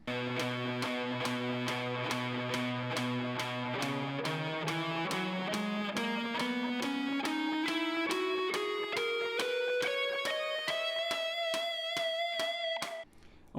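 Guitar plays an ascending E Lydian scale run against a steady click, picking notes evenly and climbing step by step from low to high, close and clear with no talk.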